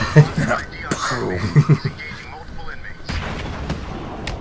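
Sharp, punchy punch impacts from the video game Batman: Arkham City crack out several times like gunshots, interspersed with game noise while people talk over them.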